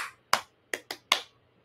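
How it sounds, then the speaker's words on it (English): A teacher's rhythm clap pattern for getting students' attention: one sharp clap, a pause, then three quick claps in an uneven rhythm. Close, crisp and alone, with no talking. "So rhythm clap, you can design your own"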